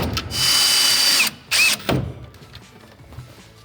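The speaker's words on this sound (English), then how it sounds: "let's grab those screws and a drill, and make sure we secure our back panel to our wall framing" A power drill drives screws through a back panel of a Delta Classic 500 seated wall kit into the wall framing: two loud whirring bursts with a clutch ratchet, then quieter clicks and handling noise.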